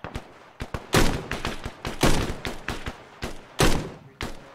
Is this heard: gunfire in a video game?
yes